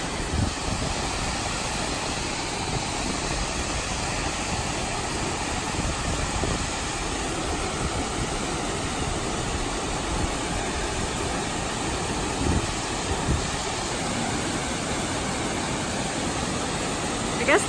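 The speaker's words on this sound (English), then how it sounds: "We're at Laurel Falls." A waterfall at Laurel Falls on a cold April day pours in a steady, dense broadband roar that holds an even level throughout, with no breaks or distinct events.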